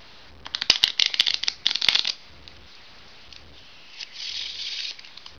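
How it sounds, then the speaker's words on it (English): A deck of playing cards being riffle shuffled for a self-working magic trick: two quick crisp bursts of rapid fluttering card riffles, close up, followed by a softer, steadier riffle or bridge a moment later, with no talking. "what you need to do is do a Ripple Shuffle"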